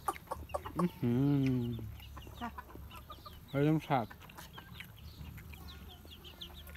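Chickens cluck and call nearby in two loud bursts, with brief speech and quieter background murmuring in between.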